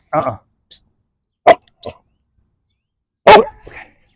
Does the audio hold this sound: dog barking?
yes